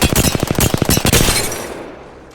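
Automatic R-301 rifle fire in Apex Legends, a rapid loud burst of evenly spaced shots for about a second and a half, then a decaying echo tail.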